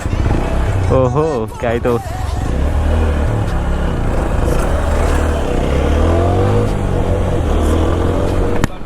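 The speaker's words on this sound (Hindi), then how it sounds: "सो अभी अपाची चलाने वाले हैं, देखते हैं कैसी फीलिंग आती है इस पे।" An Apache 160 motorcycle drones steadily as it is ridden and revved, its engine note rising and falling close by while someone speaks briefly over it near the start.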